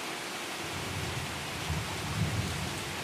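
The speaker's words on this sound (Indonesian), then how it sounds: "Hujan semakin deras." Heavy rain pours in a steady dense hiss, with low rumbling swells like distant thunder rising toward the end, alone without any voice.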